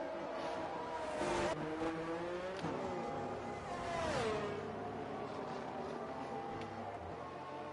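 Race cars in an Austria-set online racing game pull away from a safety car restart, engines rising and falling as several cars rev, upshift and pass in a continuous loud drone.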